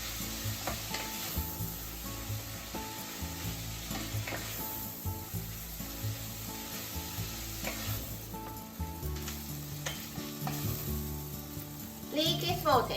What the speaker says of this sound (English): When the pork is almost cooked through, add leek and keep stir frying.